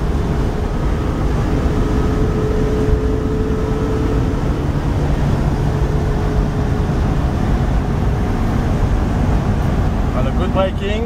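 A 1967 Volkswagen 21-window bus cruising along a road, its air-cooled engine droning steadily with constant road and wind rumble, loud and close from inside the cabin.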